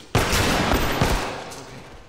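A single shotgun blast fires in The Last of Us, one sharp loud report followed by a short echoing tail and a faint second crack.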